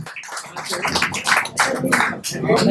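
An audience at an awards ceremony for successful UPSC civil services candidates claps in bursts. The applause comes in uneven surges lasting under three seconds, with some voices mixed in.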